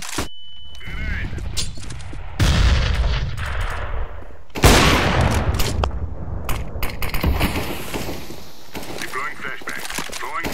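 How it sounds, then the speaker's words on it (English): Gunfire and blasts from a CS:GO match, with loud bursts around two and a half and four and a half seconds sitting over continuous in-game combat noise and a steady background din. "Grenade out."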